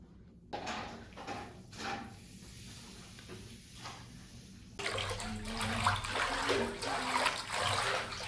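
Water runs into a hotel bathtub at Lotte Hotel Seoul, filling it with bubbly bath water, a quiet hiss that becomes a louder, fuller rushing stream halfway through, with faint handling knocks.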